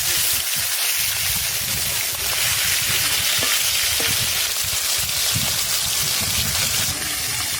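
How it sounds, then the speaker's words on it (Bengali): Prawn and fish sizzle steadily in hot oil in a frying pan, a loud, bright, continuous hiss with occasional crackles and spatters, close up and without pause. "এক পিঠ একটু হালকা ভাজলাম, আর এক পিঠ একটু লাল করে ভাজলাম।"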